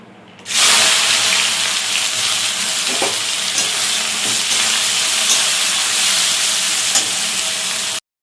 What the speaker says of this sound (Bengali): বেরেস্তার জন্য পেঁয়াজটাকে ভেজে নেব।